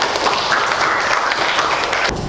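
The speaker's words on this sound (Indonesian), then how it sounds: "silakan tepuk tangan buat Anda" A class claps together in a dense, even burst of applause lasting a couple of seconds, close and fairly loud, with no talking over it.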